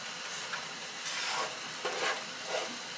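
Garlic sizzles softly in a frying pan with occasional stirring scrapes and a few brief clatters, fairly quiet and with no voices.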